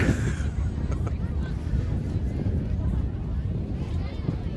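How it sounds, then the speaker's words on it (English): Wind rumbles and buffets the microphone in a steady low roar, with a voice speaking faintly beneath it. "It is windy up here."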